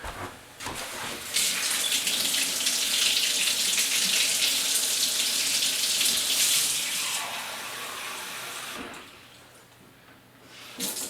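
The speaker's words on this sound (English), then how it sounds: "next we're going to add our salt water" Warm salt water made with sea salt pours steadily into a jar of carrots being packed for fermenting, a continuous close splashing gush that runs for several seconds and then tapers off.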